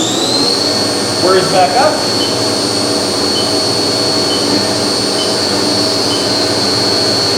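Haas CNC mill running a machining cycle with coolant flowing, a steady high whine and hum over continuous wash, loud and constant, with a brief voice near the start.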